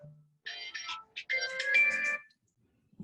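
A mobile phone ringtone rings loudly and close by, a bright repeating melodic tune lasting about two seconds, alone and without talk, ending abruptly.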